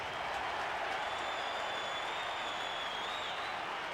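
Crowd at a 1995 AFL match between Collingwood and Richmond roars after a goal, a steady, distant wash of cheering and applause filling the whole stretch.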